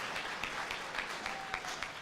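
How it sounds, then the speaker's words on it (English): Applause fills a school military appreciation day assembly, with steady crowd clapping running continuously and moderately loud throughout. "Round of applause for their support today."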